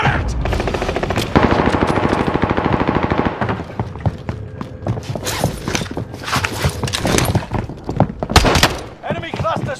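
Rapid gunfire from Call of Duty Warzone, with sustained machine-gun bursts and scattered single shots, loud and close at first, then more broken cracks and thuds while game voices talk over it.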